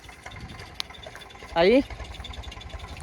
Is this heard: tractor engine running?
yes